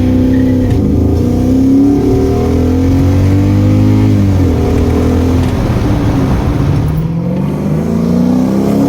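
Lexus 3UZ V8 swapped into a Nissan 1400 bakkie, engine revving and accelerating up through the gears, loud and steady close up, with rising and falling pitch sweeps as it shifts.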